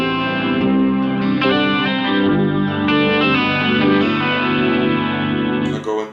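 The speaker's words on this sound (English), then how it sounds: "Hit the phrase loop pedal, and it brings in the guitar signal, doubling the organ sound." Electric guitar played through a Boss GT-100 multi-effects unit set to an organ tone and doubled by a phrase looper, producing sustained chorused, slightly distorted organ-like chords loud and alone.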